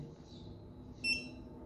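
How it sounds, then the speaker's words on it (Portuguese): One short, high-pitched electronic beep from a wireless RF 433MHz touch switch sounds midway through a quiet background. "eu vou pressionar até ouvir um bip"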